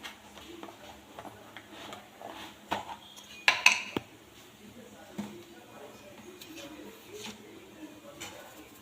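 A metal spoon scrapes and taps against a pan while kande pohe, a Maharashtrian flattened-rice and onion dish, is stirred and sautéed, giving soft intermittent clinks with a few sharper knocks midway, close and fairly quiet.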